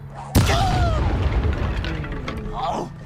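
A fire spell cast in Hogwarts Legacy bursts out as a sudden loud boom with a whooshing, crackling tail that fades over a few seconds, with other game effects in the mix.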